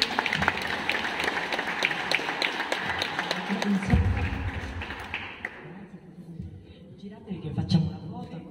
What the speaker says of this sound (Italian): Un applauso ad Enzo, complimenti.